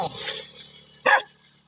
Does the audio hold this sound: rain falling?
no